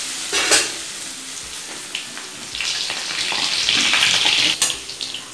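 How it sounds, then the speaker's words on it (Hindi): Bread pakora frying in hot oil on a low flame, a steady close sizzle and hiss that swells louder midway, with occasional clinks and splashes as pieces are turned. "इसी तरह मैं फ्राई कर लूँगी।"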